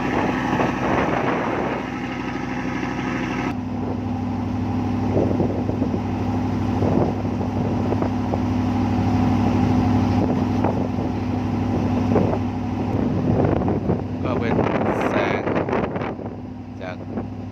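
A motorboat on the Pattani River drones steadily as it tows a fishing boat with a failed engine, its low engine hum constant under wind buffeting on the microphone, with a voice speaking over it.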